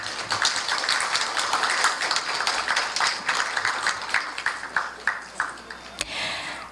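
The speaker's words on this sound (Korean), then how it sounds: "큰 박수 부탁드립니다" An audience claps at a Korean development-aid day award ceremony, a moderate continuous patter of many hands at medium distance, with a brief metallic ping near the end.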